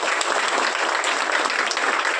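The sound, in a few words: students clapping loudly to welcome guests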